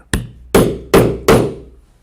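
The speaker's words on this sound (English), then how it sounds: "we'll set the second rivet." Four sharp hammer strikes on a metal setter, driving a rivet into leather chaps; each blow rings briefly and decays, the first lighter, then three heavier evenly spaced hits, close and alone.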